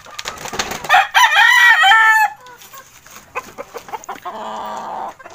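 A large, tall gamefowl rooster clucks and gives a strained crowing call at close range, loud and alone, followed by softer clucking and rustling.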